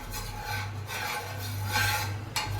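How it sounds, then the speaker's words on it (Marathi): Oil is rubbed across a tawa griddle over a low flame while making a sandwich, giving a steady close rasping smear with a soft continuous hum underneath for a couple of seconds. "तव्याला तेल लावायचं."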